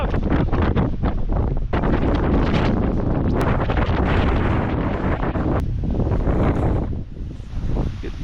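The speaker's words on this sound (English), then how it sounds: "It's got to be gusting 50 miles per hour out here." Strong gusting wind in a snowstorm buffets the microphone with loud, turbulent roaring and rumbling, surging in rough bursts for several seconds before easing slightly near the end.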